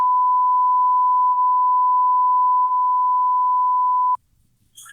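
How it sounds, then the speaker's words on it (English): A single steady censor bleep, a pure sustained tone lasting about four seconds, sits loud and alone over a podcast conversation before cutting off abruptly. "So that's all going to be beeped."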